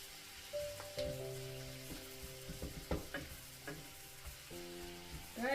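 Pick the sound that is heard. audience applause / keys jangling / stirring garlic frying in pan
stirring garlic frying in pan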